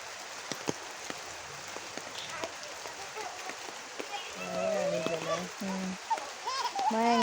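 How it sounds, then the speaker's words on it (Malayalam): Rain falls and drips outdoors with a soft, steady patter and scattered sharp drops; voices join in over the rain during the second half. "മഴ എങ്ങനെ തുള്ളിനെ കാണണല്ലേ."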